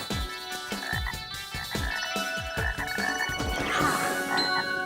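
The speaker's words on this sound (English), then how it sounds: "You found one, a wood frog, Rana sylvatica." Wood frogs (Rana sylvatica) croaking in a woodland spring pool, a steady series of short, clucking, duck-like calls repeating about twice a second, fairly close and unaccompanied by any talk.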